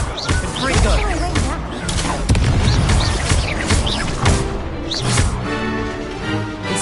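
Confringo fire spell blasts in Hogwarts Legacy go off as a series of loud booms and crashing bursts, several impacts overlapping in quick succession over a busy battle din.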